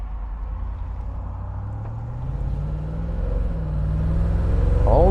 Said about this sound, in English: maybe we will take it down the street just for a quick drive